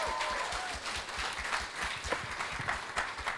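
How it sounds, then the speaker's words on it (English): Moderate applause from an audience greeting a speaker at an event about games and the planet, many hands clapping steadily with a few sharper nearer claps, mid-distance and fairly soft, with a faint voice briefly early on. "round of applause for Millie as she comes on up"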